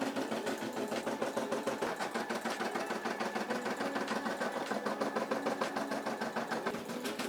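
A Brother SE600 embroidery machine stitches out a patch, its needle hammering in a fast, even, unbroken rhythm close by.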